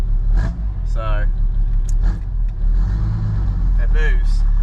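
A car driven after an 80s engine swap, its engine a loud steady low rumble up close from inside the cabin, with people talking over it.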